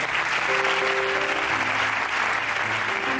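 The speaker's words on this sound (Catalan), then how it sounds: "Un aplaudiment, per favor, a Paquito i a Chome." Audience applause at a charity gala against cancer, a loud, dense and sustained round of clapping filling the hall, with faint voices underneath.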